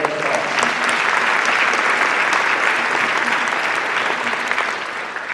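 A crowd at a community justice gathering applauds, sustained dense clapping from a large indoor audience, steady and loud for several seconds before tapering slightly at the end.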